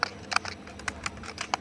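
Quick, crisp keystrokes tap on a computer keyboard while entering a crypto key command, about a dozen light clicks in an irregular rhythm, close and fairly quiet.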